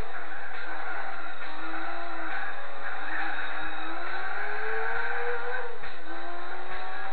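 Engine of a 2006 Mitsubishi Eclipse in the racing game Gran Turismo 4, rising and falling through gear changes in a steady whine with bursts of tire squeal, heard alone without talk.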